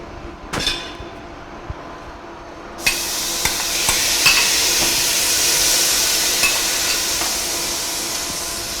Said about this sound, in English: So let's add the mince into the pot.